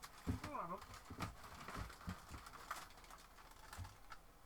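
An old computer keyboard is typed on in quick, uneven clicking bursts at close range, with a person speaking over the keystrokes at the start.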